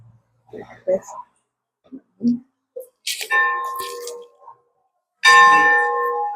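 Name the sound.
old schoolhouse bell being rung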